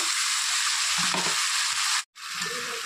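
Masala paste for chicken masala curry hits a hot pan and sizzles loudly and continuously, a dense hiss with faint stirring scrapes, briefly cut off for a moment before resuming.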